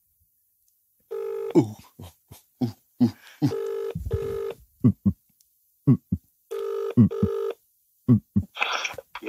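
A phone call is placed: a short run of keypad dialing tones, then repeated ringback tones in evenly spaced bursts, loud and close, with a brief voice near the end.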